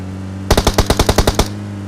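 Automatic gunfire in a PUBG Mobile match: a rapid burst of about ten sharp, evenly spaced shots, loud and close, over a steady low in-game hum, with no talking during the burst.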